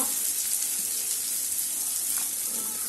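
Onions sauté in a pan for beetroot poriyal, giving off a continuous soft hiss and sizzle, even and unbroken, with no voices.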